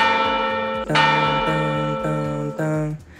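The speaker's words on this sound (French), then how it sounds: "Et ça s'écoute le son de la cloche." A bell in an augmented-reality display of Mexican money rings in four or five clear, evenly spaced strikes. Each tone rings on and overlaps the next, with no voices.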